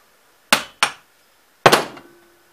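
Three sharp metallic hammer strikes on a rusty electric starter from a Gravely cart, two close together then a louder one after a pause, the last ringing briefly.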